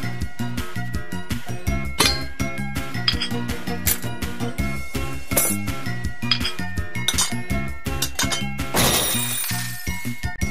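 Clean dishes, cups and cutlery clink and clatter in a steady run of bright chinks as they are put away in the Kitty Care kitchen-cleanup video game, set over bouncy background music with no talking.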